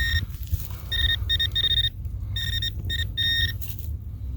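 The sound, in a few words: metal detector beeping on a target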